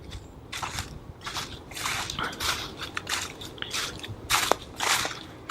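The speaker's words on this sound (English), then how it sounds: "through the crunchy leaves." Footsteps crunch through dry fallen leaves on a woodland path, a steady series of close, crisp crackling steps with no talk.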